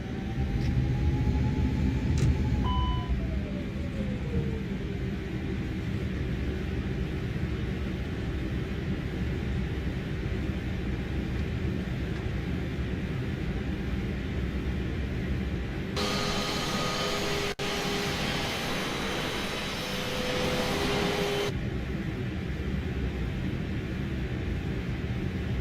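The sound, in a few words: Airbus A320neo jet engines on takeoff roll, video game Microsoft Flight Simulator 2020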